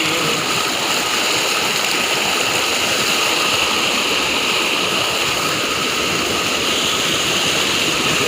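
A small village waterfall roars in a loud, steady, unbroken rush of falling water, heard close by with no talking over it.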